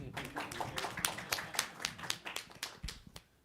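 A few people clapping at a Queens Borough Cabinet meeting, quiet, uneven claps in loose bursts, fairly faint and a little distant, with some soft voices mixed in.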